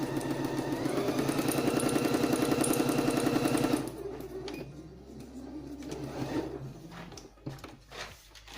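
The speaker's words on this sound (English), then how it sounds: "Lower your needle to ensure it's in the right place. Do a backward stitch. Begin to sew." A sewing machine stitches a straight line with a fast, rhythmic mechanical whirr for about four seconds. It then stops, leaving quieter handling clicks and rustles.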